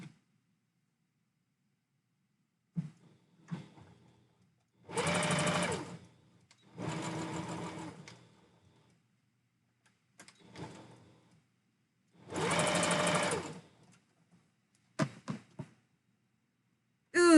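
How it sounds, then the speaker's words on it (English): A sewing machine stitches a belt loop on a fabric husky tail, running in three bursts of about a second each, separated by quiet pauses and short clicks, close and clear with no talking. "So now I'm gonna sew the top and bottom of this belt loop here to hold it in place."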